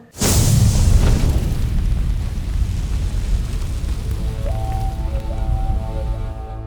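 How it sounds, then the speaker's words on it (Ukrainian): A loud, sudden explosion booms and rolls into a long, rumbling roar that slowly fades, with faint tonal sounds emerging near the end. "І гучний вибух, що сколихнув все навколо."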